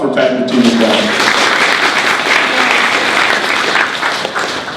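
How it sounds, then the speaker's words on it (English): Loud, dense audience applause at an ideas incubator launch panel swells right after a voice ends and holds steadily for several seconds before tapering. "So a round of applause for Pat and the team as well."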